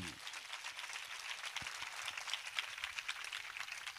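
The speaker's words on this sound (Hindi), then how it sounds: "ताली बजा के जोरदार प्रभु का जोरदार ताली" Crowd applause at a church prayer and worship gathering, a steady dense patter of many hands clapping that holds for the whole stretch at a fairly soft level.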